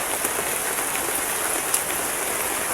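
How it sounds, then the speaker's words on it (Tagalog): Rain falls in the mountains, a dense, constant hiss of drops striking surfaces close by, steady and unbroken with no voices. "Nabutan kami ng ulan eh."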